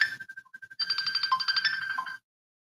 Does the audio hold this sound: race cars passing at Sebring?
no